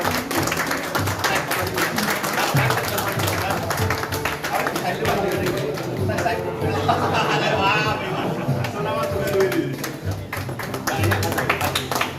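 Crowd at a family restaurant event clapping for honoured guests being felicitated, a steady spatter of applause and chatter with talk over it throughout.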